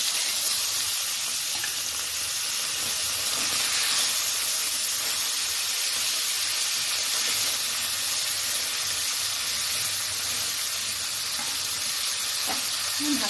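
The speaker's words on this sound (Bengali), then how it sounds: "তেলও গরম হয়ে গেছে, আমি মাছগুলো ছেড়ে দেব" Aair fish frying in a little hot oil in a wok, a steady close hiss and sizzle that runs throughout with faint stirring sounds.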